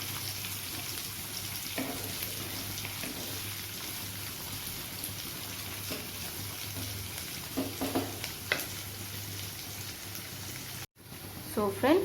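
Onion frying for a tarka crackles and sizzles in a steady wash, with a few sharper stirring clinks and a sudden cut near the end. The cooking noise sits fairly faint in a home kitchen.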